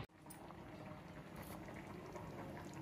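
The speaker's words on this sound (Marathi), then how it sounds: "आता चांगली उकळी येऊ द्यायची 1-2 मिनटं त्याला." Thin methi besan pithla curry, a fenugreek-leaf and gram-flour dish, boils steadily in a pan, giving a continuous low bubbling and simmering close by with no talk.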